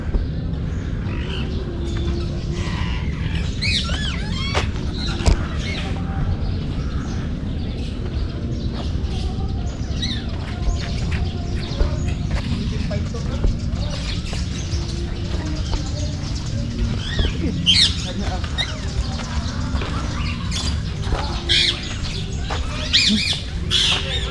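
Birds in a beach resort aviary on Samal Island, including peacocks, giving scattered squawks and chirps at moderate distance over a steady outdoor background, with occasional faint voices.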